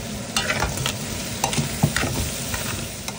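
Ingredients sautéing in a hot pan for a lomi noodle soup, a steady close sizzle with scraping stir strokes and occasional utensil taps throughout.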